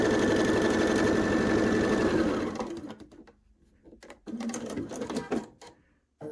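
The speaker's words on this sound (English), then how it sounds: "And just gently sew it in." A sewing machine stitches quilt pieces for a queen-size pinwheel quilt, a steady close mechanical whir running for a couple of seconds before stopping, followed by quieter handling sounds and a brief restart.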